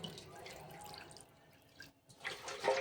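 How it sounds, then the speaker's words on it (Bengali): Water, about two cups, poured into a cooking pot while making a country chicken curry: a soft running splash and trickle, quiet and close, briefly pausing before picking up again with no talking. "সেই পাত্রটা ধুয়ে আমি দু কাপ মতো জল দেবো"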